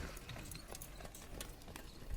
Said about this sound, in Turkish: Atlar da vur vur geçiyor.